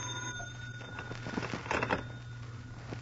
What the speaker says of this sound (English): when the phone rang